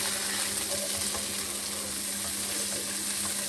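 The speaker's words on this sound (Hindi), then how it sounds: "अब मैं इसमें वेजिटेबल्स शामिल कर रही हूँ, जो हरी मिर्च और प्याज है। इन दोनों को भी हम थोड़ा सा फ्राई करेंगे।" Green chillies and chopped onion frying in a pan, a steady loud sizzle throughout with faint stirring underneath and no talking.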